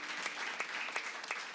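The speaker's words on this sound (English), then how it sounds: "Round of applause for them." Brief applause from an audience at a politics-and-pints gathering, a moderate ripple of clapping for a sponsor lasting under two seconds.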